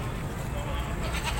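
A Kamori breed goat bleats at a goat farm, faint and buried in constant broad pen noise and background chatter.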